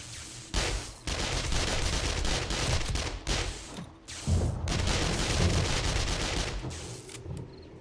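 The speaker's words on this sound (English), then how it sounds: "the auto turrets are firing though" Automated turrets in the video game 7 Days to Die hammer out continuous dense gunfire, a sustained rattling fusillade with brief gaps and occasional heavier booms, moderately distant and steady for several seconds.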